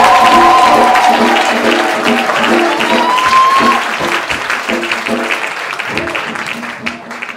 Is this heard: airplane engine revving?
no